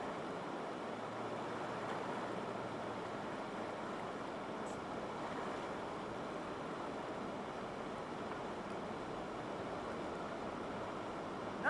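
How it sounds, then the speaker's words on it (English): Whitewater rapid on the Wenatchee River with tall standing waves, a continuous rushing roar of water and wind noise, fairly quiet and unbroken. "this rapid right here, the top waves at the top, we call these grannies."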